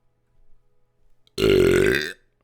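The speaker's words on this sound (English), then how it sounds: "Had to make up for my lack of burping in the other video." A loud, drawn-out burp rumbles close up for nearly a second after some faint soft noises.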